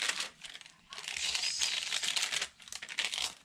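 Sheets of paper and vellum from a junk journal craft kit crinkle and crackle as they are handled and folded, a continuous rustling close to the listener, alone, with brief pauses.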